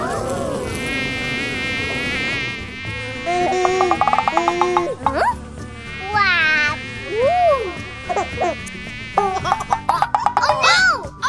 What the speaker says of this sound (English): Remember, Bluey, next time, don't get too close to the bees